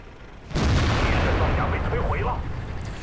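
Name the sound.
tank gunfire in the video game World of Tanks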